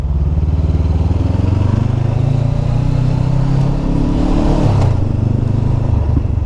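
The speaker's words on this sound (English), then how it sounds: "the CB is just the perfect size to nip safely and comfortably between traffic" Honda CB500 motorcycle filtering through gridlocked traffic, its engine a loud, close, steady throbbing drone with a brief rise in revs near the end, surrounded by road noise.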